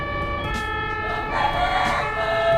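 An ambulance siren wails through slow, narrow, congested traffic, loud and close with a steady tonal sweep over a dense rumble of road noise.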